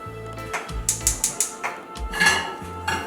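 A non-stick pan being handled in a home kitchen while migas are made, giving a run of sharp clanks and knocks of cookware, with a quick cluster of clatters in the middle and a few scattered bumps, close and fairly loud.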